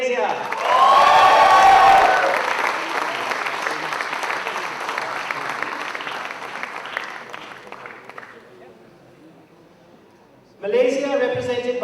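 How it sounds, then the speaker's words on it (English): Ceremony audience bursts into loud applause and cheers for Malaysia, a big whooping swell at first that settles into sustained clapping, fades out, then a host's voice cuts back in near the end. "come on, cheer for Malaysia"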